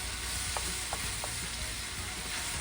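Shrimp stir-fry in a hot pan for basil fried rice, a steady close sizzle with a few sharp scraping stirs of the spatula, no voices.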